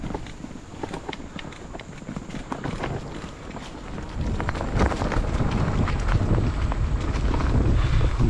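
Wind rushes and buffets past a Cyrusher XF 900 mountain bike riding a trail near a reservoir, a steady broadband roar with rattling, crunching tire noise that grows louder and denser partway through.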